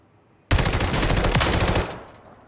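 Rapid sustained burst of automatic fire from the FJX Horus gun in a video game, a dense stream of loud, close shots lasting about a second and a half before cutting off into a short fading tail.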